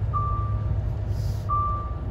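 A truck's reversing alarm beeps on an internal road in Stoke: two long, steady, high-pitched beeps about 1.4 seconds apart, heard over the low engine rumble of a vehicle interior, with no talk.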